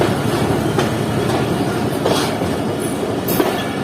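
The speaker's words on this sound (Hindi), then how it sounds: "तकरीबन 4:50 पर ट्रेन डिपार्ट कर रही है हैदराबाद जंक्शन रेलवे स्टेशन से।" Passenger train departing Hyderabad Junction railway station, a loud close rolling rumble with rhythmic clickety-clack of wheels over rail joints and a few brief metallic squeals, steady throughout with no talk.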